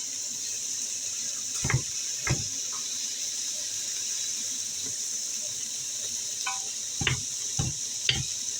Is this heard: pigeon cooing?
no